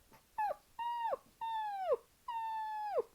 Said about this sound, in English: he's like howling like he's an adult, but he's crying like a baby